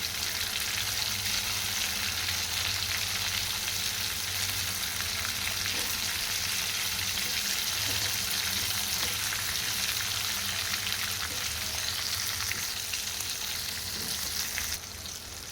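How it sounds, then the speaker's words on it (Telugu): Stuffed eggplant for a Telangana-style curry fries in a pan, a steady close sizzle with dense crackling spatter that runs unbroken the whole time, with no talking. "ఫ్రై చేసుకున్నాం కొద్దిగా"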